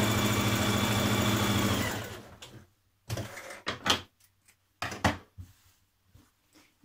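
A sewing machine stitches dress fabric in one steady, loud whirring run lasting about two seconds, then stops, followed by scattered handling clicks and rustles nearby.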